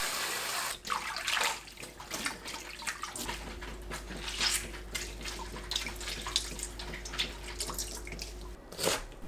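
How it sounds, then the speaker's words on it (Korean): Blanched young radish greens are rinsed under cold running water, with close, steady splashing and trickling from a tap and occasional sharper splashes as the leaves are handled. "찬물에 헹구고 물 짭니다"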